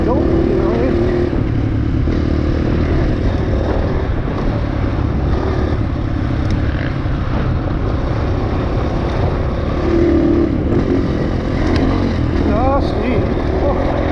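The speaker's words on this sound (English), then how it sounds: "Going for a dirt bike ride." Dirt bike engine droning steadily on an enduro trail ride, a loud continuous motor rumble with shifting revs throughout, close to the recorder.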